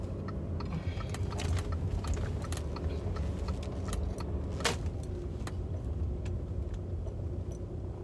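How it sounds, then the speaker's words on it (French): A postal service car pulls away outdoors, its engine a low steady rumble with sharp metallic clicks and clatters scattered over it, moderately loud and no one talking. "voici la voiture de la poste là qui part"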